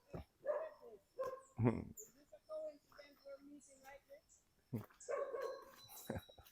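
A dog barks in short bursts at close range, mixed with voices talking and other brief household noises, the barks rising loudest near the middle and again toward the end.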